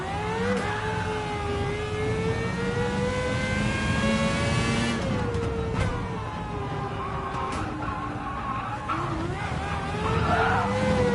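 A De Tomaso race car in the GT7 video game brakes hard at Monza, its engine tone sweeping down and back up in steady harmonic whines, loud and close throughout with no voices.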